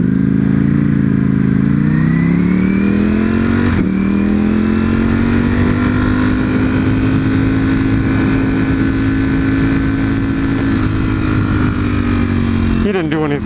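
Car launching hard off the line in sport mode while racing a Nissan GT-R, its engine note climbing through gear changes with a sharp shift near the start and another at the end, loud and close throughout.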